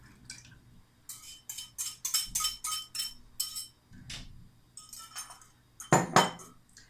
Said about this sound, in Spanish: Con una varilla batimos un poquito los huevos.